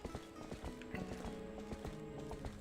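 Horse hooves clip-clopping in the video game The Legend of Zelda: Twilight Princess HD, a steady trotting rhythm of repeated hoof strikes over a low mechanical background.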